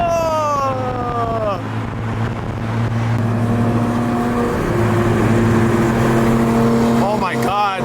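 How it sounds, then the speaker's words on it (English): A Porsche GT3 engine revs and roars steadily among other idling cars at a car lineup, sustained and fairly loud, with people talking nearby. "that GT3 sounds so good"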